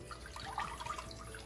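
Ragi flour mixed with water pours into a cast iron pan, giving a short, soft liquid splash and trickle up close with no talking.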